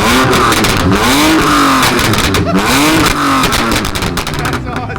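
A BMW car engine revs hard several times, rising and falling in pitch, with crackling exhaust pops and a flame between revs, loud and close.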